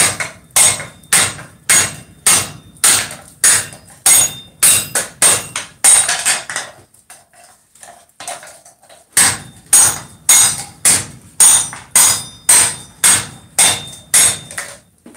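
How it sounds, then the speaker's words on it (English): Steady, loud hammer blows strike metal on a wedge block to shape a curve into it, a rhythmic series of sharp ringing hits with one brief pause midway. "Basically, you just want to hammer a curve into this thing."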